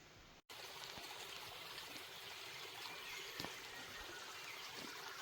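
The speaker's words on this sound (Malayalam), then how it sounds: "ഈ ഭാഗത്തേക്ക് ഒരു വെള്ളച്ചാട്ടം കാണുന്നുണ്ട്" Forest waterfall in Amarad, a soft, steady rush of flowing water heard from a distance, continuous and faint, with a short break near the start.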